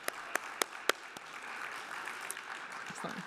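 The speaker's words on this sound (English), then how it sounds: "Let's give them a nice round of applause." Applause at an awards gala: a few sharp, separate claps open the moment, then a soft, steady patter of many hands builds in the room and carries on, fairly distant.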